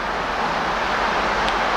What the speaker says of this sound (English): You can right hear the traffic of Interstate 81 off to our left there.